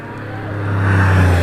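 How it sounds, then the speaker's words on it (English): A Porsche 911 Carrera climbing a hillclimb course gives a loud, rising engine drone that swells closer and louder over a brief moment, with no talking. "Lovely sounding Porsche."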